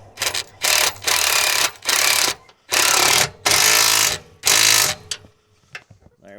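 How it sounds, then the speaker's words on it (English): A small 1/2 inch impact wrench drives 5/16 bolts while installing stabilizer jacks, firing in about six loud, close bursts of rattling hammering, each roughly half a second long and separated by brief pauses. "These are 5/16 bolts, so it'll take a 1/2 wrench. I'm using my little 1/2 impact."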